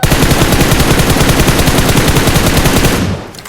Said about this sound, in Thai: ซูมสโคบไปตรงหน้าต่างครับ แล้วก็กดยิงเลย